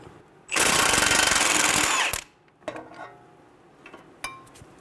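An impact wrench spins a 24mm socket to break loose the axle nut on a 2011-2014 Hyundai Sonata during front wheel bearing replacement: one loud, rattling hammering burst of about a second and a half, then a few light metallic clinks.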